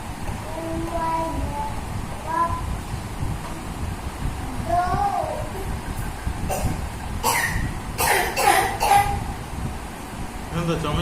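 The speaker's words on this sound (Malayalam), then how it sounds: "എന്താ ചുമയൊക്കെ" Several sharp coughs burst out in quick succession near the end, after a stretch of people talking in the background.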